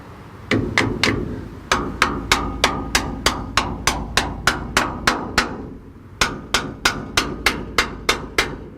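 A screwdriver driven against the differential cover of a 1977 Chevy C20 to break its seal: about twenty sharp, evenly spaced metallic blows ring out close and loud, with one short pause partway through.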